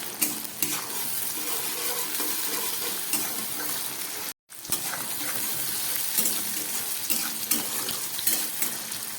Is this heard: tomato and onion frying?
yes